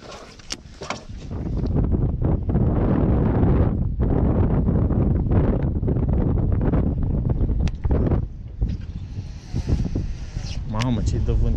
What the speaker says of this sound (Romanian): Mamă, ce-i dă vântul aici.